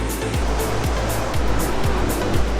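The Alaknanda river rushes loudly at the Vishnu Prayag confluence with the western Dhauli Ganga, a continuous dense roar of churning water with a faint recurring low thump beneath it.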